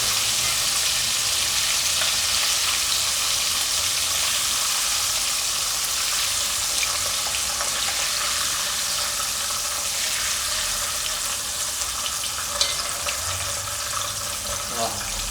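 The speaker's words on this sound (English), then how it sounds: "I'm going to just deep fry all my shrimp" Shrimp (prawns) deep frying in hot oil, heard as a steady, dense hiss and crackle that holds evenly for the whole stretch, with a few small pops near the end.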